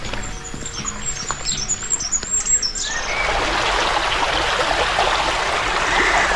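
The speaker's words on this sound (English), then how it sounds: "We found the river again" Birds chirp and squawk at first, then a steady rushing of flowing river water takes over, broad and continuous, fairly close.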